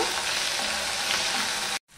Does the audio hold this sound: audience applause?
no